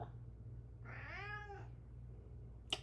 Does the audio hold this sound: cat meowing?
yes